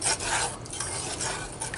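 Sugar mixture for barley sugar being stirred in a pan over low heat, a continuous soft scraping and swishing with faint sizzle, close and steady throughout.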